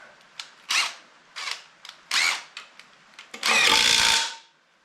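A power tool drives bolts to fasten a Powerglide transmission onto a 350 small-block Chevy engine in a T-bucket, with several short loud bursts followed by one longer sustained whir, close up.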